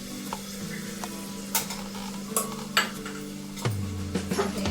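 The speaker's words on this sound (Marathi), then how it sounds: "मिश्रण सगळं आता आपण एकत्र करून घेऊया।" A spoon scrapes and clinks against a pan as a spiced green moong mixture is stirred over a low sizzle. Several sharp, irregular strikes rise above a soft, steady cooking hiss.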